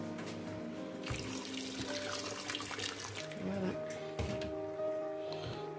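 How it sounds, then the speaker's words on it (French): Water pours steadily into a cooking pot holding yam stew ingredients, a continuous running splash close by, with a voice talking over it. "on mouille tout ça à la hauteur en fait de la quantité des ingrédients dans la marmite"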